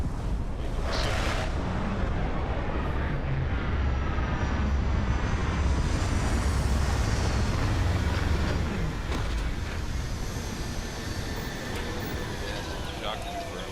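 A spaceship lands in the video game Starfield with a loud, continuous engine roar and a deep rumble that swells and then slowly eases, plus a brief higher whoosh near the start.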